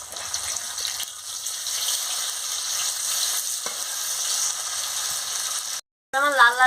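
Paneer pieces frying in hot oil in a home kitchen pan, turned over partway: a steady, close, dense sizzle that runs throughout, cuts out briefly near the end, then resumes with a short tonal sound over it.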